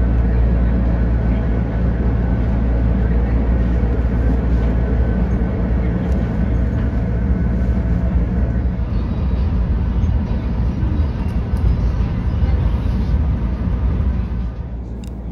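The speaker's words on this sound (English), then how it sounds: "All the RTD lines are electrified, something that is incredibly unique for an American commuter rail system" An RTD electric commuter rail train rides out from Denver Airport, heard from inside as a loud, steady rumble of wheels and rail noise with a continuous low drone that eases slightly at the end.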